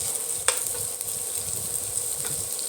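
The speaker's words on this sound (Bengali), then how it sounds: "একটু নাড়াচাড়া করে ভেজে নেব" Onions frying in oil with bay leaf and panch phoron, stirred now and then; a steady sizzle runs throughout with a couple of brief utensil scrapes, moderately close and without speech.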